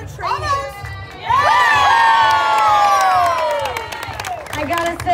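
A live audience at a Renaissance-fair stage show in Austin, Texas breaks into loud cheering, whooping and clapping, with shrill shouts and children's voices that swell suddenly and hold before fading back toward speech.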